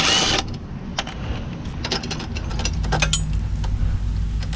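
Ratcheting clicks from a wrench working the last bolt on a Honda Civic rear brake assembly during a disc brake conversion, rapid repeated metallic ticks close by over a low background hum.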